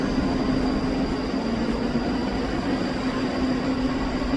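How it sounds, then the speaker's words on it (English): A Scotrail passenger service pulls out of a station, giving a steady low rumble and hum with a constant tonal whine, moderately distant and even throughout, with no voices. "Departing out now is the 11:48 Scotrail service from Helensburgh Central"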